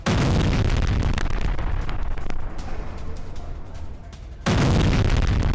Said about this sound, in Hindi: बॉर्डर के नजदीक धमाकों की गूंज सुनाई दी गई है